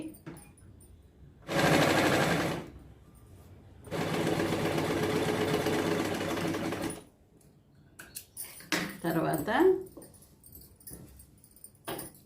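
A sewing machine stitches the lining of a lehenga in two close, loud runs of rapid mechanical whirring, one short and one longer, followed by scattered handling clicks and cloth rustling.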